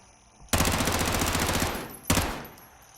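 Two bursts of very rapid automatic gunfire from a rifle in Modern Warfare, a long loud stream of rattling shots followed after a short break by a briefer second burst, close and with no talking.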